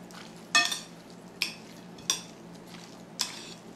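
A spoon stirs a chicken and brown rice casserole mixture in a bowl, making four separate clinking, scraping strokes at an uneven pace against a quiet background.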